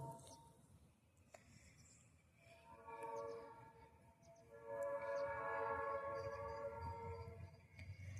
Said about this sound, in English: Two trains at the same time.